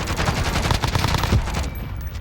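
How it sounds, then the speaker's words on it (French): Rapid continuous gunfire in the video game Warzone, dense automatic bursts filling the clip loudly before cutting off near the end. "Tire sur qui toi?"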